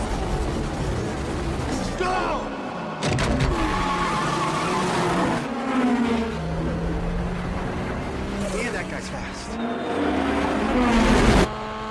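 Street race cars from the first Fast and Furious film roar and squeal their tires during a four-car race with nitrous, with engines rising and falling under continuous narration.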